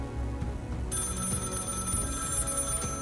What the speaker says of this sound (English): this phone ain't no phone. Why is it ringing?